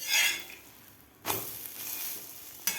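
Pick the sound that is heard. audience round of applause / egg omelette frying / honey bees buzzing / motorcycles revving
egg omelette frying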